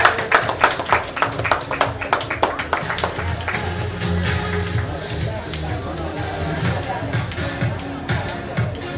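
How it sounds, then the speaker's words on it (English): Clapping from the audience at a school graduation ceremony, Skill Stork International School, with sharp rhythmic claps at first that give way to a steady wash of applause mixed with crowd chatter. "Let's welcome him with a huge round of applause."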